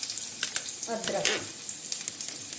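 Garlic and ginger sizzling in hot oil for gobi manchurian, a steady close crackle with brief stirring clinks and a short voice partway through.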